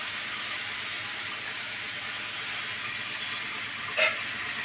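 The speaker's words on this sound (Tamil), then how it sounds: "தழையும் போட்டு கொஞ்சம் வணக்கிக்கலாம்." Pirandai leaves sizzle and sauté in a hot pan, a steady, fairly loud hiss of frying with one brief clink near the end.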